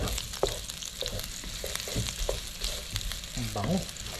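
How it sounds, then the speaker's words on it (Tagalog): Garlic sautéing in a hot pan pushed beside meat, a steady broadband sizzle and frying hiss with occasional stirring scrapes and small clatters, close and moderately loud with no talk. "Tapos gisa-gisa tayo ng bawang."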